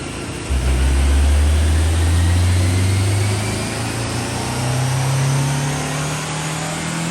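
A Honda S2000's naturally aspirated engine idles steadily on a dyno with a low, even hum and a slight rise in pitch, loud and close, no voices.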